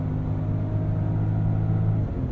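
A 2024 Range Rover Velar's inline-six engine hums in a steady, close mid-pitched drone with a faint rise in revs, fading slightly near the end.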